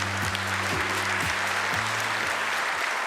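Steady audience applause fills a formal national policy presentation hall, dense clapping sustained throughout at a moderate distance, with faint tonal hum underneath and no voices.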